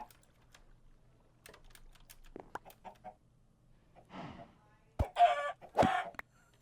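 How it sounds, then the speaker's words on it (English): Chickens clucking in a video game on a TimeShot server, soft intermittent clucks and a louder squawk near the end, mixed with sparse keyboard typing and clicks. "There's no way to see where the chickens are. You can just hear them."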